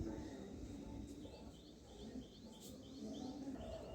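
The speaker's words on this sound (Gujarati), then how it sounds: "પક્ષીઓનો અવાજ" Birds chirp faintly in the morning around a rooftop terrace garden, with a series of short, high, repeated tweets over a soft, quiet outdoor background.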